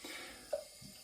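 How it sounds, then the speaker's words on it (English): Water is added to shaving brush lather, a short soft splash and trickle with one brief drip-like blip in the middle, close and fairly quiet with no talk. "So we'll add more water."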